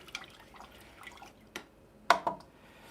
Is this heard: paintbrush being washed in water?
yes